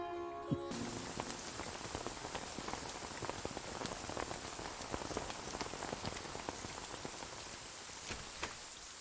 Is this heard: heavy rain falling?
yes